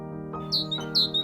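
A small bird sings two bright, sharp chirps about half a second apart over a low steady background hum, close and clear.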